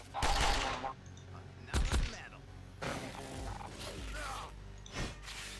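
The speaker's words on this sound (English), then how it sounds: "So if I fire, it will fire 3 shots, but use 5 rounds." An assault rifle in a sci-fi video game fires in separate bursts, with sharp mechanical reports and clacking action sounds spread across several seconds, amid game effects.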